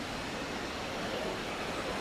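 Steady broadband rush of water at the Git Git waterfall, a very tall falls beside a river in Bali, a constant even roar with no breaks and no voices.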